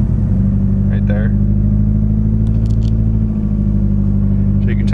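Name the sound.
VW MK6 GTD engine idling with possible rod knock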